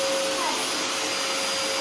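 A vacuum cleaner runs steadily at close range in a home, a continuous whining roar with a high motor tone, heard alone without pauses.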